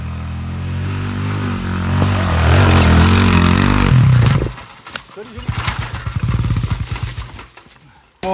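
A motorcycle held in first gear climbs uphill, its engine revving hard and loud before easing into a choppy, pulsing idle, with people speaking nearby.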